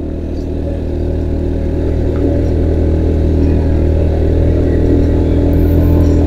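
An automatic scooter engine labours up a steep mountain road toward Gunung Telomoyo, a steady loud drone with low harmonic hum and faint clatter holding throughout, no voices.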